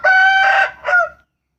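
A rooster crows once, loud and close, in a long harmonic call that breaks briefly and then trails off in a second, falling phrase, heard alone with no talking.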